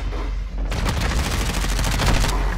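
Rapid hip-fired gunshots from Call of Duty: Modern Warfare II crackle in dense, loud bursts that follow a brief quiet opening.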